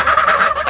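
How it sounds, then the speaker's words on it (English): A chicken gives a loud, close, nasal honking cluck in a quick run of repeated pulses, alone with no talk. "That chicken's gonna go in there though."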